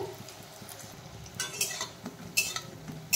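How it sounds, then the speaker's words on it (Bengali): Fried dimi leaf pakoras are lifted out of hot oil, with soft sizzling and a few light metal scrapes and clinks of a utensil against the pan, close and fairly quiet. "তেল সেকে তুলে নিতে হবে এইভাবে"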